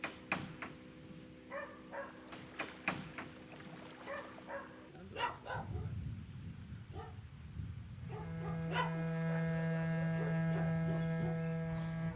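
Dogs in a small coastal cove village bark in short scattered yaps at moderate distance, with insects droning and a steady electrical hum entering later, alongside faint background voices.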